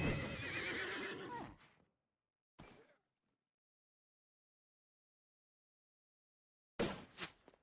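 A horse neighs in Disney Infinity 3.0 during a Toy Box Takeover battle, one loud drawn-out whinny at the start, a brief sound after a pause, then another sharp burst after long silence.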